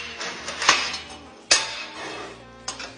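Metal parts of a collapsible rocket stove base clank and clink as it is opened up, three sharp metallic knocks spaced apart, close and fairly loud, with no talk.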